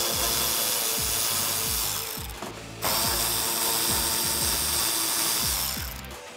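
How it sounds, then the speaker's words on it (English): Plastic front trim is pried off the lower grille area of a 2018-2020 Ford F-150, heard as a rapid string of loud clicking, ratcheting snaps close by, with one brief pause midway. "Now I can just repeat this on the other side and pull this trim piece off."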